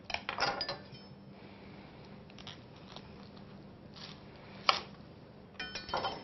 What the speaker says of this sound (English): And I'm going to cut it in half lengthwise.